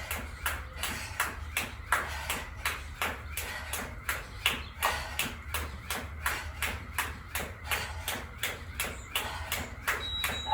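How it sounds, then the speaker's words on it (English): A workout interval timer sounds a long, steady series of evenly spaced beeps over a constant background hum, repeating without a break to the end. "there's the timer beeping"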